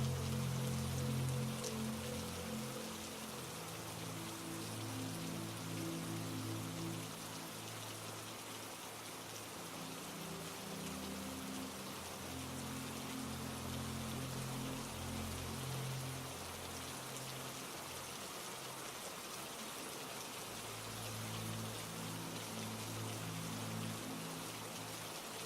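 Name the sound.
rain and raindrops falling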